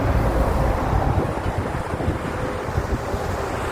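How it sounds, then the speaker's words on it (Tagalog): A cold breeze blows steadily, buffeting the microphone with a continuous low rumble and roar, no voices present. "Lamig ng simoy ng hangin."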